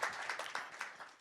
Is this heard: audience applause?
yes